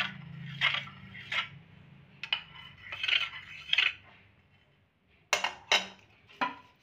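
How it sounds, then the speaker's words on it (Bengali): A spoon stirs milk in a bowl while setting sweet curd (mishti doi), producing separate clinks and scrapes in short irregular bursts with quiet gaps, close and without voices. "এই বাটিটাও কিন্তু এভাবে একটু চামচ দিয়ে নাড়িয়ে দেব।"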